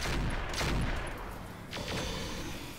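Gunfire in the video game Roguepoint: loud, rapid bursts of shots crackling close by, rolling in quick clusters with a short lull partway through.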